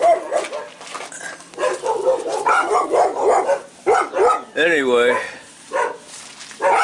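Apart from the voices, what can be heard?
neighbor's dogs barking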